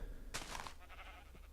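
Sheep bleat in Minecraft: one wavering, buzzy bleat that stands out clearly over a low steady background and then fades into faint noise, with no talking.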